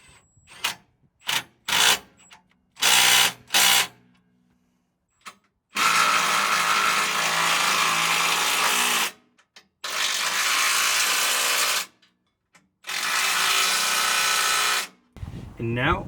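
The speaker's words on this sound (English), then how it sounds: "So for this one, I just used a ratcheting crescent wrench and just slowly got it down" A ratcheting crescent wrench tightens a bolt on a 4Runner gas tank skid plate, giving loud, close clicking in short bursts and then longer sustained runs, separated by pauses.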